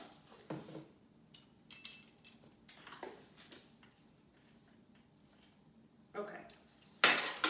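A spoon or utensil clinks and scrapes in a bowl while salt is stirred into plain white flour, producing faint, irregular close scrapes and taps, with one louder clatter at the end.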